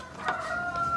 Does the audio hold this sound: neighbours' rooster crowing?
yes